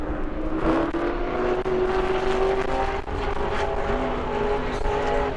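A pro race truck laps the New Smyrna track in a loud, continuous engine drone with shifting pitch as it passes, heard alone with no voices.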